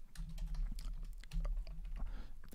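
Keys clack on a slightly faulty computer keyboard as a command is typed, irregular close taps over a low steady hum.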